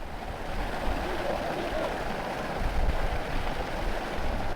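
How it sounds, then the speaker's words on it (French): Swimming pool water jets and bubbles, a dense steady rushing and bubbling wash of water that stays broad and even throughout, with no talk over it. "Un petit groupe accompagné par Monique se dirige vers les jets d'eau et les bulles, de quoi se prélasser et se détendre."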